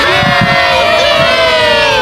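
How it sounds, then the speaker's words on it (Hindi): A crowd cheering at an Angels baseball game, a loud, dense roar of many voices with shouts and whoops filling the whole clip. "जब लगभग हम में से सब जंबोट्रॉन पर दिखे, हमारे आसपास भीड़ जमा होने लगी"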